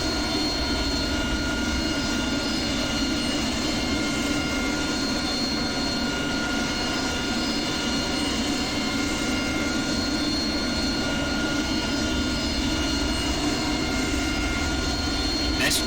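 An AV-8B Harrier jet engine in the DCS flight simulator spools up toward 55% compressor RPM, a steady, loud turbine roar with a whining high tone that holds evenly throughout.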